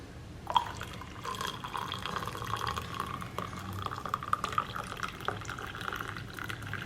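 Karupatti (palm jaggery) coffee is poured with a milk ladle into a container, making liquid splashes and small drips that trickle steadily at close range, with a sharper splash near the start and no voices.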